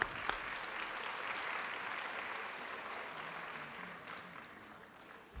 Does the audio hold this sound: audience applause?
yes